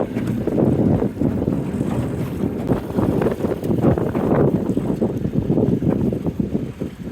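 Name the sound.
rough wind blowing on a fishing boat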